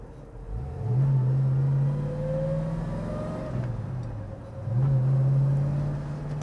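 A 1967 Ford Mustang cruising in Daytona, its engine revving up through the gears in two rising pulls with a smooth drop between them, loud and close from inside the car, and no talk over it.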